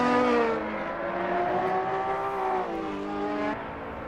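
A purple Ferrari race car in a GT2 racing video game holds a loud, steady engine drone, its pitch gliding up and down through gear changes with no talk over it.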